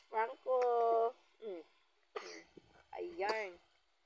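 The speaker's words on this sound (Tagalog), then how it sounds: "Tapos ayan, inubo-ubo na siya." A small child coughs and clears its throat several times in short, harsh bursts, close by, with brief voiced whimpers between.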